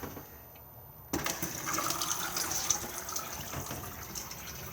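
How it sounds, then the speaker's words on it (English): The water pump in an Elddis Xplore 304 caravan switches on suddenly after a quiet moment, then runs with a steady rushing hiss of water flowing through the system, close by and fairly quiet. "Water pump on and off just here."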